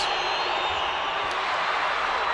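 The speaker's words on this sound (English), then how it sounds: "the crowd making some noise" Steady, dense crowd roar in an arena during a free throw at a 2015 FIBA Americas basketball game between the Dominican Republic and Venezuela, a loud continuous wash of voices with a faint commentator speaking underneath.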